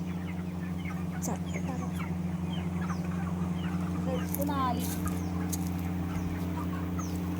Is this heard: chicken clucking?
yes